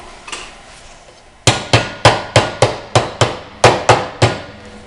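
A carpenter staple gun fastens material at home, firing about nine sharp, snapping shots in a quick, fairly even run after a short, quiet start with one faint knock.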